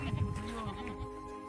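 A sheep bleats close by in a brief, wavering call with audible harmonics, while a voice talks over it.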